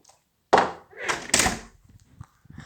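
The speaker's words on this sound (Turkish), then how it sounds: "Kapıyı da kapatalım." A door closing in a video game, a sharp thump followed by a couple of heavier knocking impacts, fairly close, with faint voices murmuring in the background.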